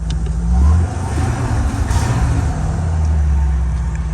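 A Ford F-250/F-350 Super Duty truck engine runs close by with a loud, steady low rumble that swells briefly, no voices over it.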